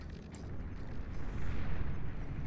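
Rumbling cannon fire from shoulder-mounted arm cannons in the Beyond All Reason strategy game, a dense continuous roar of booms and blasts that swells louder toward the end.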